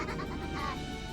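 A goat bleat sound effect from the visual novel Umineko: one short, wavering, nasal bleat, close and fairly loud, with no talking.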